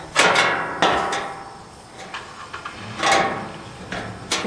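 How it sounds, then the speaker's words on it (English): A hand hole puncher bites through the sheet-metal floor board of a 2001 Ford Mustang, giving several sharp metallic clunks spaced apart, close and fairly loud, with faint handling noise between punches. "So we're going to punch some holes along this thing."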